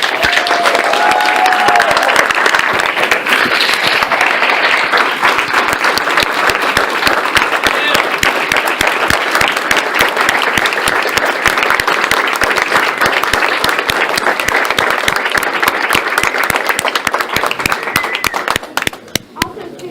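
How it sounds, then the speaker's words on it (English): A loud, sustained round of applause for Jack Morris at a county Democratic party reorganization meeting, dense clapping filling the room for nearly twenty seconds before tapering off at the end. "Just one last round of applause and thank you to Jack Morris."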